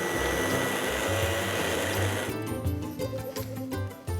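A blender whirs loudly, mixing about thirty grams of butter into a caper and raisin sauce, then its tone changes into a choppier, pulsing whir as the mixture churns.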